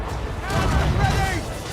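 Ship cannons fire in a naval battle in Assassin's Creed Rogue, a dense rumbling barrage of booms rolling on for the whole stretch, loud and sustained beneath shouted game dialogue.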